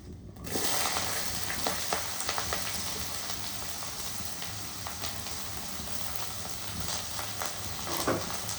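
Sliced onions hit hot oil with fennel seeds in a pan and sizzle loudly and steadily, with occasional scraping and stirring clicks over the continuous hiss.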